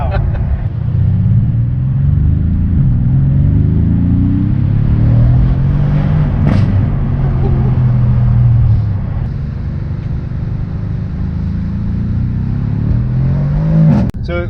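A Mercedes-AMG C63 engine drones on steadily through the whole drive, loud and close from inside the car, with its pitch rising and falling as it shifts gears, and faint talk sits under the engine noise.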